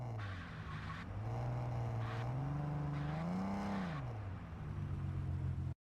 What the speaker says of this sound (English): The cars sound really good too.